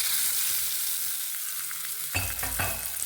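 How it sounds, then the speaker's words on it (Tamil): Curry leaves and dried red chillies hit hot oil for a Tamil-style tomato chutney tempering, a steady frying hiss that bursts into a louder, crackling sizzle near the end, close by with no talk. "அது கூட கொஞ்சம் கருவேப்பிலை, கொஞ்சம் வரமிளகாய். தாளசத்தை சேர்த்துருவோம்."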